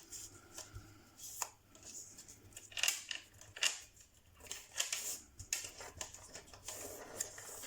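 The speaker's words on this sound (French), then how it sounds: "On marque le pli" Paper being folded and creased by hand while crafting die-cut storage pouches, a series of close, quiet, irregular swishes and crisp taps.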